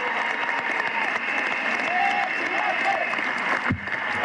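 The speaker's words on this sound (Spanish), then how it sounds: "Un aplauso para toda la juventud y los estudiantes venezolanos." Crowd applauding youth and students in Venezuela, a steady dense wash of clapping holding throughout with a faint voice or tone briefly audible, then a short bump near the end.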